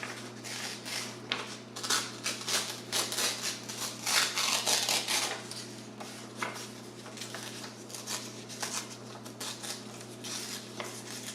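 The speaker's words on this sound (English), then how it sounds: "I'm just going to tear this." Eco-dyed paper is torn by hand in short, uneven rips with crackling and rustling bursts, heard close over a steady low background hum and without talk.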